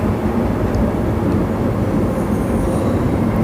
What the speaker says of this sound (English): we've got the High Wycombe train just on platform 8